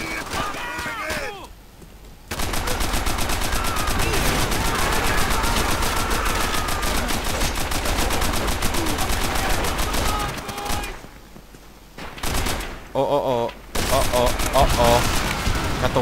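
Sustained automatic gunfire from Call of Duty: World at War, loud and dense with brief pauses and short bursts near the end; no voices over it.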